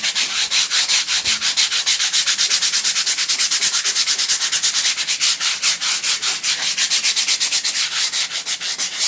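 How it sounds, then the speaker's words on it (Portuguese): Sandpaper rubbed by hand across a piece in quick, regular back-and-forth strokes, a loud close rasping rhythm that runs without pause and with no voices. "Vai pegar uma lixa, lixar ela"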